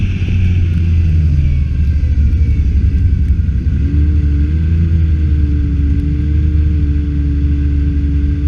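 A snowmobile engine drones steadily on a winter trail ride from Durham to Belwood Lake, a loud, close rumble holding a constant pitch that rises slightly partway through, with no talk over it.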